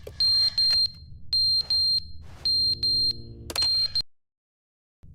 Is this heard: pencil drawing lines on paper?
no